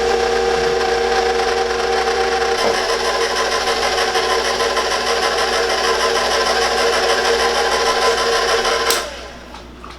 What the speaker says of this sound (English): with the mixer on low speed, we're gonna slowly add our cocoa mixture in